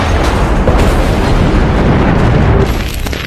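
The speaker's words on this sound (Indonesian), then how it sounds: "meriam Krupp raksasa yang mampu menembakkan proyektil seberat 1 ton, menghancurkan benteng-benteng yang selama ini melindungi Belgia" A giant Krupp cannon of the First World War, able to fire one-ton shells at Belgian forts, booms continuously with a loud, dense roar of blasts and rumble that holds steady for three seconds before easing slightly.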